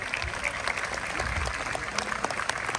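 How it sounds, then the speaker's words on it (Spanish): A crowd at a middle school graduation event applauds in a sustained, fairly loud burst of mixed clapping, with scattered individual claps standing out and faint voices underneath. "un gran aplauso para él y todas las personas aquí."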